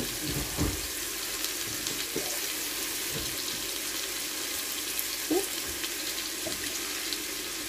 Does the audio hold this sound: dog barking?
no